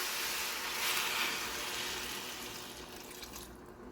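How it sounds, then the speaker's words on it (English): Strained chicken broth pours into a pot of rice and meat in a steady, close liquid rush that slowly softens and thins out over a few seconds. "I've got 3 cups of that strained chicken broth"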